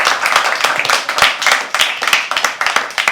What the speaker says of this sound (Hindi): जोरदार तालियां अमृत के लिए।